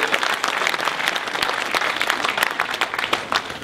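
Dense, steady applause from a large audience at a Tamil film audio launch, many hands clapping at once with a few sharper claps standing out, loud and continuous throughout.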